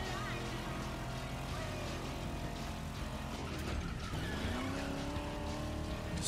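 A car drifting in The Crew Motorfest racing game, its engine droning steadily with a rising tire squeal as it slides, all under continuous game music and occasional voice.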